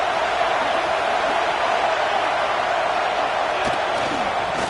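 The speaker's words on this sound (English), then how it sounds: "These fans raising the volume on second and goal." Football stadium crowd at a Michigan vs UCLA college game, roaring loudly and steadily as the home fans raise the noise on a goal-line play, a dense, continuous wall of cheering throughout with no break.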